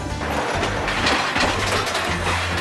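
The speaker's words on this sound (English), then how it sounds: "You hear that? That means the train's moving." Loud rumbling and clattering of the moving Orange Blossom Cannonball train, with metallic clanks and rattles over a continuous low roar.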